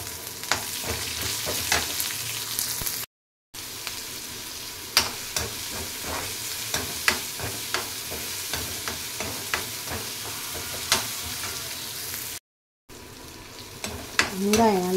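Chopped onion sautéing in a pan for a potato and pea kootu, with a loud, steady sizzle and frequent scraping stir strokes up close, briefly interrupted twice by short gaps.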